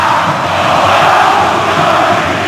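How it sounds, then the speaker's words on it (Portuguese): Atlético Mineiro supporters sing in a packed stadium during a 2009 Brasileirão league match against São Paulo, a steady, dense wash of crowd voices that holds at an even level throughout. "Canta bonito a torcida do Atlético"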